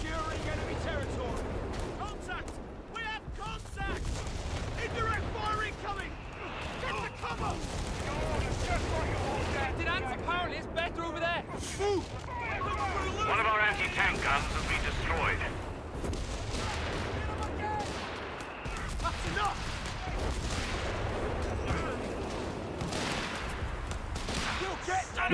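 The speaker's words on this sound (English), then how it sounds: "Contact! We have contact! Indirect firing coming!" Artillery booms and rattling gunfire from a 2v2 match of the war game Aere Perennus keep going throughout in dense bursts, loud and close, under shouting voices.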